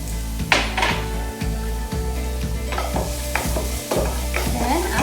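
Minced garlic hits a hot wok of sesame oil and is stir-fried, a steady loud sizzle broken by repeated scraping strokes of a spatula against the metal pan.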